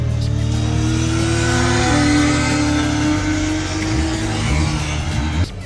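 A motorcycle accelerates on a racetrack, a loud close engine drone climbing steadily in pitch through several seconds before abruptly dropping off near the end.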